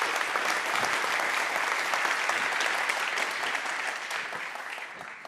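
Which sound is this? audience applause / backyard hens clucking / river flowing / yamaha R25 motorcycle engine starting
audience applause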